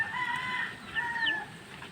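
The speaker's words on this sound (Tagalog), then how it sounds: "Manok. Manok yan guys." Chickens on a rural property, with a rooster's crow-like calls and clucks rising over steady outdoor background noise, two short calls close together.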